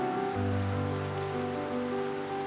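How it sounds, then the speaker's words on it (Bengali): The Rishi river rushes past a campsite in the green hills of Sikkim, a steady broadband wash of water with a droning hum layered over it. "ঋষি নদীর ঝমঝম আওয়াজ"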